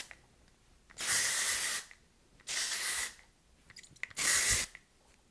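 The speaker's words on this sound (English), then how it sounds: "I always, always, always spray from underneath because then I don't weigh down the top of my hair" Hairspray is sprayed onto a short bob in three separate bursts, each a close, bright hiss lasting under a second, with brief quiet gaps between them.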